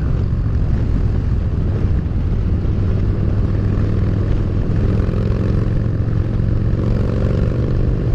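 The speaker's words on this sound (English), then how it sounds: "I can barely hear myself scream right now. It's so windy." Strong wind roars steadily into the microphone, a dense, continuous low buffeting rush with no pauses.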